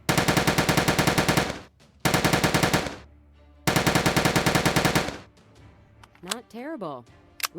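A PPSh submachine gun fires in a video game, with three long, loud, rapid automatic bursts separated by short pauses, then fainter game sounds and a brief rising whine at the end.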